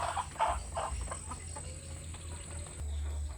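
Laying hens around 14 months old cluck close by in their run in the late afternoon, a few loud bursts of clucking at the start that settle into softer calls over a steady insect-like hum.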